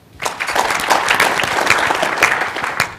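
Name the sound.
audience applause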